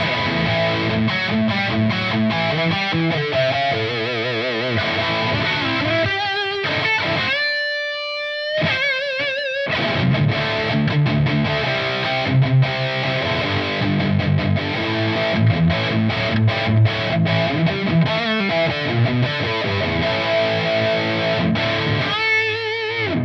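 Saturated high-gain electric guitar played through an amp at its maximum gain setting with a humbucker pickup, heard alone for the whole stretch: dense, distorted chords and riffs with a short break of sustained notes near the middle.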